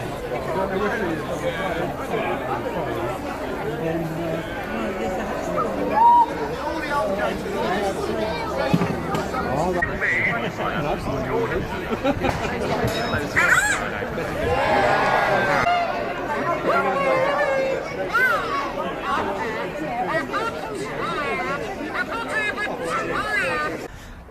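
Dense crowd chatter fills a busy Covent Garden street on the way to the May Fayre, steady overlapping voices and murmurs close around, with occasional laughs rising out of the babble.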